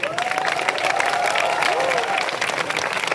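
A crowd at a student protest claps and cheers continuously in a dense, steady wash of applause, with a voice rising briefly over it.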